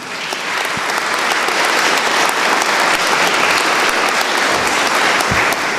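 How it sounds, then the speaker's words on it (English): Audience applause fills a political forum hall in Washington County, a dense, steady clapping from a seated crowd that holds at full strength for several seconds without talk. "another round of applause for those who have committed to be here this evening"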